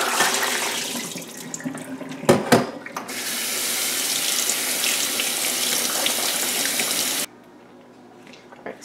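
Tap water runs steadily into a sink while soaked almonds are rinsed, with a couple of louder splashes and clatter near the start before the flow cuts off abruptly.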